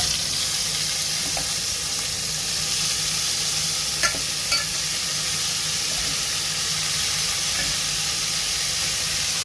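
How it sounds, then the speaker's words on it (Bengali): Cauliflower coated in chilli, turmeric and salt fries in hot oil with a steady, dense sizzle close by, broken only by a couple of faint utensil taps. "আর এখানে তেল গরম হয়ে গেছে, ফুলকপিটা দিয়ে দেবো।"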